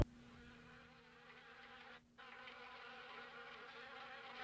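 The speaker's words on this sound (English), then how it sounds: "The bees!" Steady insect buzzing of bees in the Harvester video game, a continuous droning hum that fills the scene at moderate level with a brief dip partway through.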